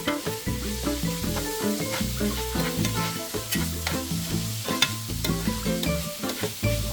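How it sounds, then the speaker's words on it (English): Pickled vegetables and ground pork stir-frying in a pan, with a steady close sizzle and repeated scraping, clattering strokes as the mix is tossed continuously, no voices. "Make sure to consistently tossing them around and stir fry about 3 to 5 minutes."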